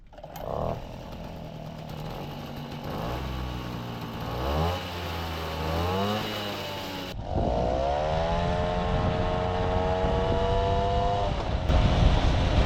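An MBK 40V moped with an Airsal 70 kit, SHA 15 carburettor and new variator with 3x4.5 g rollers revs close and loud, its buzzing two-stroke engine climbing and falling in pitch before holding a high whine.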